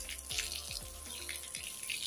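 Water poured onto small potted chilli plants in dry weather, a close, quiet splashing trickle with a few soft drips and gurgles, steady and alone.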